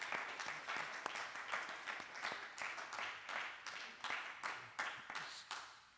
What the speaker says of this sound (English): thank you very much for clapping